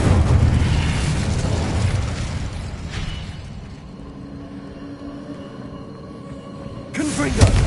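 Incendio fire spell in Hogwarts Legacy: a loud whooshing burst of flame that roars and slowly fades into a low rumble, followed by another sharp burst near the end.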